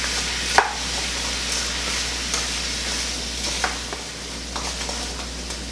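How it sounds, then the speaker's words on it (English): Apples are stirred through sizzling butter in a pan, a steady soft fry with occasional scraping clicks of the spoon and no voices. "we're going to be mixing our apples all around in that butter"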